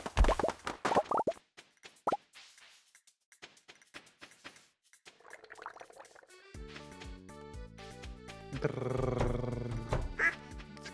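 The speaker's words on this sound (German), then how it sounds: "Die Hühner." Chickens in the Stardew Valley farming video game make cartoonish plopping, clucking and quacking noises, a scatter of short bursts followed by busier layered game sounds and music, with no one talking over them.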